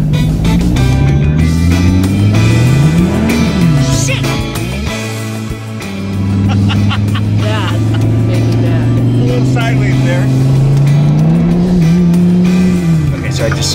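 A Dodge Viper accelerates away, its engine loud and close and climbing through rising and falling pitch sweeps with a brief dip between gears, and people talk over it.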